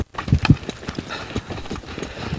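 A young horse being started under saddle lopes along, its hoofbeats thudding in an uneven, rolling rhythm at moderate distance, with no voices over them.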